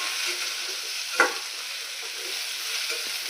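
Okra fries in a pan with a soft, continuous sizzle and a single brief stir or scrape partway through, quiet and close.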